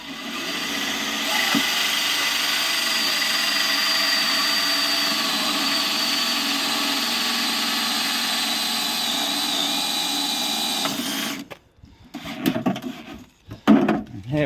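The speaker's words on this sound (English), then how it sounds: "Use this as a guide to drill." A steady, loud power-drill whine as a hole cutter grinds through a wooden kitchen plinth for about eleven seconds, then stopping, followed by a few brief clattering handling sounds.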